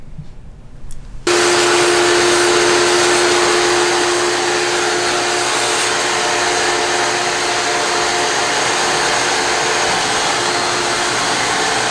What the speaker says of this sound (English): We're going to go ahead and vacuum that off as well.